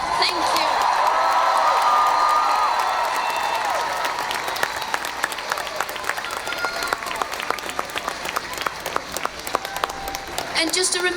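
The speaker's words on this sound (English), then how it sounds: "We'll give them an applause" A crowd at an outdoor climate strike rally claps and cheers, a burst of applause with whoops that thins into scattered sharp claps, near and lively.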